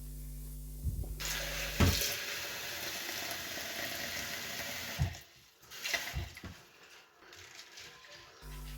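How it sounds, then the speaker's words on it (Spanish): Tap water runs steadily into a sink while a flower vase is rinsed and its water changed. The flow sounds loud and close, with splashing and clunks as the vase is handled, then quieter dripping and sloshing. "voy a cambiar el agua, voy a enjuagar un poco el jarrón y voy a colocarlas aquí nuevamente con un agua limpia, agua fría"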